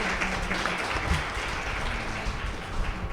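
Sustained applause from a retreat audience welcoming Brother Thomas Paul, a steady dense clapping throughout.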